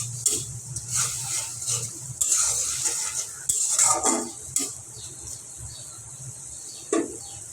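Spice masala with ground coriander, cumin and salt being stir-fried in a pan for loitta shutki, a metal spoon scraping and clinking in bursts over a low, soft sizzle.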